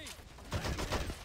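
Small-arms fire at infantry in the real-time strategy game Men of War: Assault Squad 2, a short burst of muffled shots and rumbling impacts following a brief voiced order, fairly quiet overall.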